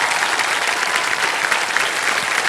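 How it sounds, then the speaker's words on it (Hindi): Loud, sustained applause from a studio audience on a televised quiz game show, a dense continuous wash of clapping filling the room with no talk over it. "इसलिए जोर से तालियां बजना।"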